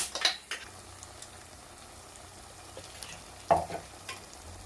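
Ground gravy stirred into a pan of fish curry, a faint sizzle beneath a few clinks and scrapes of a spoon against the pan, close but quiet.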